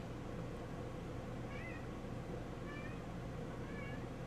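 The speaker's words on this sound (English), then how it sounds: "and you're also Mars meowing" A cat meows several times over a steady, dense background hum, each meow brief and fairly faint, spaced about a second apart.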